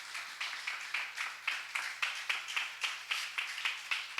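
A church congregation clapping in praise during a worship service, rhythmic, evenly spaced unison claps in a steady beat, moderately loud and without talk.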